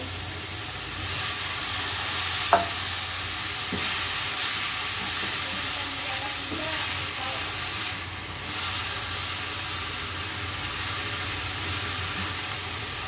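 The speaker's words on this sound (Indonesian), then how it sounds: "Kita oseng-oseng ya sampai matang" Squid stir-frying in a pan for Thai tom yam seafood soup, a steady close hiss and sizzle that runs unbroken throughout with a few faint utensil clicks.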